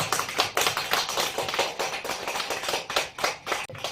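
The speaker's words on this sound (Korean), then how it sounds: "큰 박수 한번 쳐드리시죠" A small group at a Buddhist temple memorial ceremony claps steadily, a moderate round of applause with even, quick hand claps and no talking.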